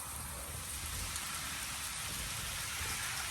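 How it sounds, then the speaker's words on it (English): Heavy rain falling outside on a Saturday night in Atlanta, Georgia, a dense, constant hiss of downpour on surfaces with no break, heard alone. "It's raining like a mother."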